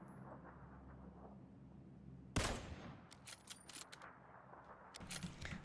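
A single sharp gunshot in the shooter game PUBG, followed by mechanical clicks and rattles of handling the weapon against quiet background ambience.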